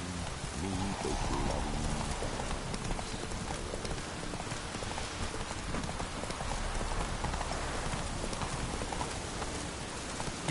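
Horse hooves clip-clopping at a steady trot in The Witcher 3 video game, a continuous rhythmic clatter over a dense wash of rain-like noise, close and even throughout with no pauses.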